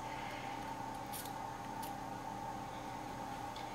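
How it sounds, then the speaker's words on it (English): Small scissors snip the corners of fabric for a baby's bell-bottom pants waistband, giving two quick, faint cuts a moment apart over a steady background hum. "a little pair of scissors and just snipped a little bit of the corners"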